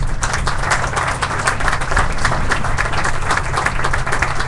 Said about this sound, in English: a warm round of applause for the two generals in front of you.